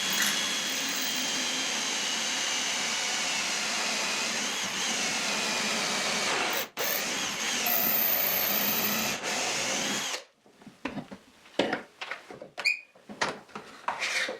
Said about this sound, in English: This drill bit is 8 millimeters and practically not flexible at all.